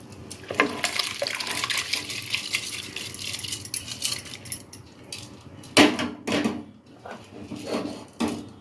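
Cooked rice tipped into a pot of boiling water while making Tamil kalkandu paal pongal, a sweet milk pongal, with close, intermittent clattering and splashing and no talking.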